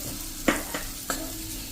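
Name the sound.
gram flour (besan) frying in oil with onion and capsicum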